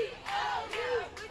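Philadelphia fans in the stands at a softball World Series game in Washington shout a rhythmic group chant, three rising bursts of massed voices in quick succession, moderately distant and crowd-heavy.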